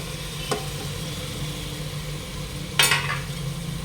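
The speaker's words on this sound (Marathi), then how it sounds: "आता हे सगळं फ्राय करून घ्यायची पुन्हा छान मिक्स करून घ्यायचं आहे तर याच्यात हे आता मटण टाकून घ्यायचं आपल्याला" Mutton tipped into a pan of red chutney and spices with a soft scrape and a brief sizzling burst, steady low frying hiss throughout.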